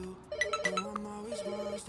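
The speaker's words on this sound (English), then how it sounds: "Oh, I can just answer the phone manually now from wherever I'm standing." A phone rings in the simulation game Pets Hotel, a repeating electronic ringtone with a steady melodic pattern of short tones that continues across the whole moment, clear and close.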